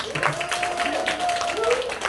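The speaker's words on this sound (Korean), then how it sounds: "우리 큰 박수로" Applause from a church congregation for a contestant in a Bible recitation contest, steady and moderately loud, with voices and a melodic tone carrying over the clapping.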